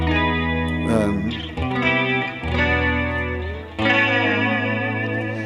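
A Gibson 355 electric guitar plays a chiming, shimmering run of chords and notes with a chorus-like effect, loud and close, with no voices over it.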